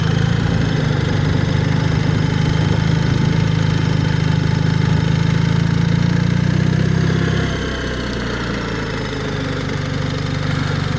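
BMW R1300RT motorcycle engine running steadily with a low, even hum under light throttle, loud and close, then easing to a softer idle after about seven seconds.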